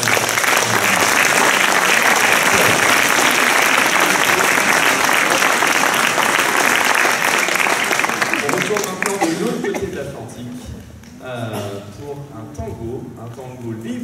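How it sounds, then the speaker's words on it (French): Concert audience at a New Year youth orchestra concert applauds the parents: loud, dense clapping for about nine seconds, then fading into scattered claps, murmuring and talk. "Je pense qu'on peut applaudir un peu les parents."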